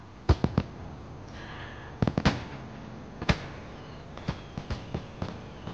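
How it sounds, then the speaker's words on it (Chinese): Fireworks burst in the night sky, sharp cracks and pops scattered irregularly at a distance over a soft background hiss, with a few clustered bangs. "你看这漫天的烟花"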